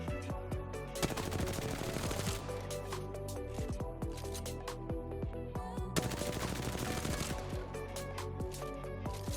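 Rapid automatic gunfire from a weapon in a shooter game, set up with an XIM Matrix anti-recoil configuration, rattles out in dense sustained bursts with a brief break near the middle before firing resumes, loud and continuous.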